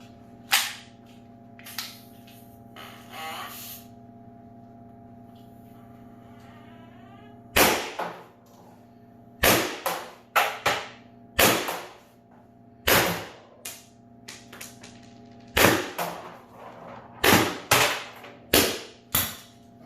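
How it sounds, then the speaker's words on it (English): A CO2 pistol on an 8 gram cartridge fires JUL rounds into a pellet trap backed by a steel double wall baking sheet: sharp cracks, sparse at first, then a rapid run of about a dozen close, loud shots over a steady background hum. "We're going to run a round of JULs with an 8 gram CO2."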